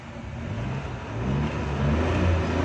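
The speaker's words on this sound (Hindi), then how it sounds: "देखें दोस्तों ये हमारी गाड़ी स्टार्ट हो गई है।" A car engine idling steadily after being started without a key by bypassing the ignition switch, a close, constant low rumble that swells slightly partway through.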